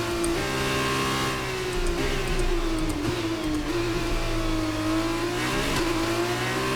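An F1 race car engine in the F1 23 video game drones loudly and continuously, the pitch rising and dipping as the car lifts off and accelerates, with no talk.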